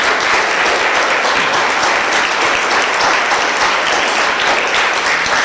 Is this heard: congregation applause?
yes